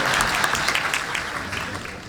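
An audience of a few hundred claps their hands in sustained, dense applause at a music education event, loud and steady, tapering slightly toward the end.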